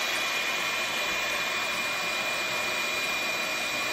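A heat gun blows a steady, loud stream of hot air across a fresh acrylic paint pour, a constant roaring whoosh with no breaks and no voices.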